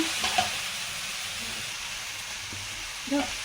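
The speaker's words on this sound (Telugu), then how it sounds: "బాగా ఫ్రై అవ్వలేదు సిమ్లోనే కొంచెం పెట్టి ఫ్రై చేసుకోవాలి" Okra slices fry gently in oil over a low flame, giving a soft continuous sizzle with a few light stirring clinks and scrapes near the start and end.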